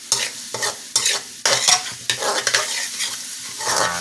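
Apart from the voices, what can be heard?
garlic stirred while frying in a pan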